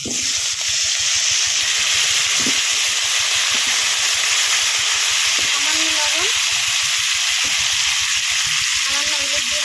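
Steady, loud sizzling of potatoes frying in hot oil, a dense crackling hiss that runs throughout with faint clinks of stirring underneath.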